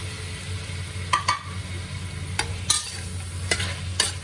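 Tofu stir-fried in a pan with soy sauce and oyster sauce, a soft steady sizzle broken by several sharp scrapes and clinks of a spatula against the pan.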